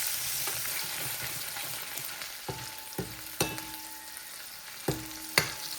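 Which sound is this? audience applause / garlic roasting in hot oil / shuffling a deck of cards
garlic roasting in hot oil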